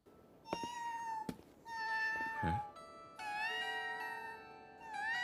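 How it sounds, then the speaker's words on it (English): A cat in the anime Frieren: Beyond Journey's End meows several times, clear drawn-out cries with short gaps between them, heard close and alone. "You better save that cat."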